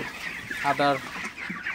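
Broiler chickens on a farm give a short burst of clucking, close and fairly loud, with a faint background murmur.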